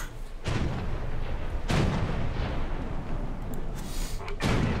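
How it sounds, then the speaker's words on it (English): Ship guns in the War Thunder naval game fire in repeated heavy booms, about four loud broadband blasts spaced a second or more apart over a constant roar of battle noise, with no talk. "Fire the guns!"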